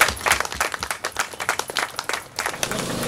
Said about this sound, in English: I just want you to give God a big hand clap and yourself.